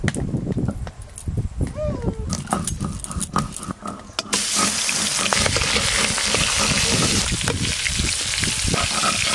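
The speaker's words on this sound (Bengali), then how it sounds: "চিংড়ি মাছ কিন্তু আমি সর্ষের তেলেই ভাজবো" Prawns hit hot mustard oil with a sudden loud, steady sizzle that fills the second half, after a quieter stretch of kitchen clatter and faint voices.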